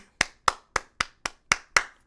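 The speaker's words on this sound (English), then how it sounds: "Clap it up for 50" A single person claps seven times at a steady, even pace, each clap sharp, close and distinct against near silence.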